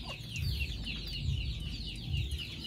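A Darag rooster on a farm gives repeated low clucks in three spaced bursts, close and moderately loud, while other birds chirp continuously in the background.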